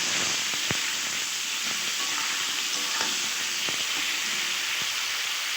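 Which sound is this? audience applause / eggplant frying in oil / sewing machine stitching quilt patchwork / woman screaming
eggplant frying in oil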